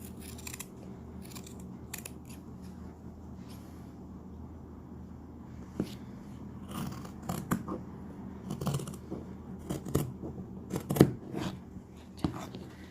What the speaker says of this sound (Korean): 그래서 시접은 요거 한 반 정도로 잘라 줄게요